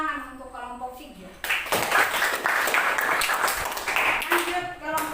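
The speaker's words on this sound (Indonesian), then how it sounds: "Tepuk tangan untuk kelompok 3." Classroom applause for a student group, a burst of clapping from about 1.5 seconds that carries on steadily to the end, with tonal voices or singing before and after it.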